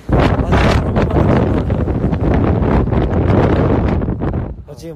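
Loud, continuous wind buffeting the microphone outdoors in Hawaii, roaring and rumbling throughout before easing off at the very end.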